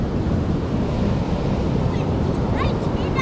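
Ocean surf rolling onto a beach on a warm day, a steady, loud wash of broadband noise with wind rumble, and faint high chirps near the end.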